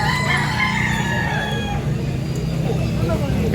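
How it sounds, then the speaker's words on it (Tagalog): A rooster at a Carbon market in Cebu crows once, close and loud, its call rising and then trailing off over a steady hum of background noise. "Ang manok."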